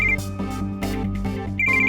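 A mobile phone ringtone ringing close and loud, a melodic repeating electronic tune with pulsing bursts of tones, playing alone without voices.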